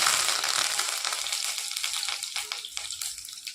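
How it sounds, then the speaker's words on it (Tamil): Mustard seeds and curry leaves crackle and splutter in hot oil, a dense close sizzle with rapid popping that eases slightly toward the end, heard alone without speech. "இப்போ எண்ணெய் சூடானே கொஞ்சமாக கடுகு பொரியட்டும்."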